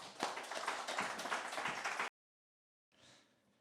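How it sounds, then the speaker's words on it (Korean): Warm clapping from a church congregation at a Wednesday worship service, a dense burst of hands lasting about two seconds, then a short silence and a fainter second patch of clapping. "따뜻한 박수로 모시겠습니다."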